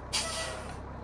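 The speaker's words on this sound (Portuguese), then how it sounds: "Vou dar uma apertada no freio forte aqui, só pra vocês verem o barulho do freio" A sharp hiss of truck air brakes in Euro Truck Simulator 2 bursts out and sustains as a steady rushing release over a low engine hum.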